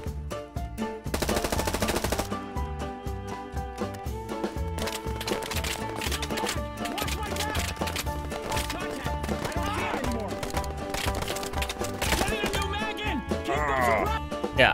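Rapid machine-gun bursts crackle continuously from a toy soldiers video game mod, loud and dense with overlapping shots and game effects, running nearly the whole stretch with a brief especially intense burst early on.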